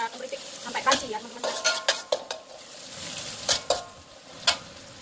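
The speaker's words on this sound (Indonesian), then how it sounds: "Goreng sampai dia matang ya, sampai dia keripik, sampai crunchy ya" Anchovies fry in hot oil until crisp, a continuous soft sizzle with sharp metallic scrapes and taps as a spatula stirs them around the pan.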